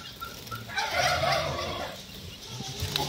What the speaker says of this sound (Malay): Ni ayam Belanda.